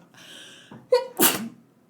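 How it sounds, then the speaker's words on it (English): A single close human sneeze: a drawn-out, breathy inhale builds into a sharp vocal catch and then an explosive, noisy burst, loud against silence. "I want to sneeze"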